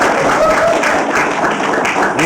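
An audience breaks into loud, dense applause that fills the whole moment as continuous clapping, with a few voices faintly mixed in.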